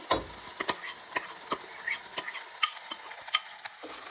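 Beaten rice (avalakki) being fried and stirred in a pan for sweet pongal, with a steady soft sizzle broken by repeated scraping strokes of a spoon against the pan, close and fairly quiet, with no talking.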